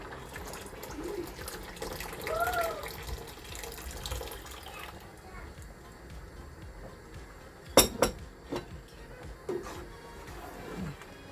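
Cooled cucumber pickling liquid pours from a one-litre jar into a smaller jar, a steady wet trickle followed by a few sharp glass clinks near the end.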